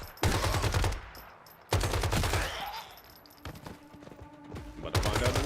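Armor-piercing rounds fired in a survival video game: loud automatic bursts in several separated volleys, each a fast rattling string of shots, with quieter game ambience and ringing tones in the gaps.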